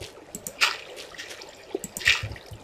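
Flowing water in Minecraft gives light splashing and dripping sounds, with a couple of sharper splashes standing out over a soft background, moderately close and without voices.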